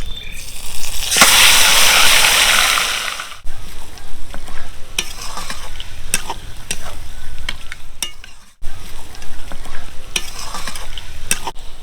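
Mutton for biryani hitting a hot pan: a loud, close burst of sizzling at first, settling into steady frying crackle with clicks of stirring and a couple of brief breaks.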